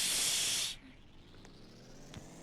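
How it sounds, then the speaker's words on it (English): Aerosol spray paint cans spray in a short, strong hiss that stops abruptly, followed by faint background sounds. "I'm gonna keep spraying."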